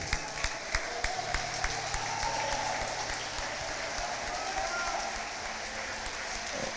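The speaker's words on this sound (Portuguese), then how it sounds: "Quem toma posse, aplauda bem forte ao Senhor." A church congregation applauding loudly to the Lord during a worship service, a few distinct claps first and then sustained clapping, with a low sustained tone underneath.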